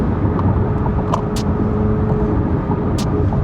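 A 1064-horsepower Chevrolet Corvette C8 ZR1 on a downtown Chicago street, heard from inside the car: a loud, steady, deep exhaust rumble that holds without pause, with a couple of faint high ticks on top.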